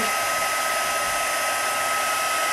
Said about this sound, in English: I'm gonna heat up my heat tool for a second before I hit the paper with it.